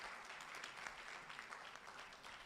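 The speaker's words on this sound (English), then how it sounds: "A round of applause for them, please." Audience at a speaker's breakfast forum clapping steadily, a dense far-off wash of applause that stays level throughout, with no voices over it.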